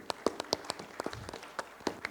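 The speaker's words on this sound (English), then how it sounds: "give a round of applause to Pak Nur Hakim" Audience applause at a panel on Indonesian AI, heard as scattered individual claps spread over two seconds, fairly sparse and moderately quiet rather than a full dense ovation.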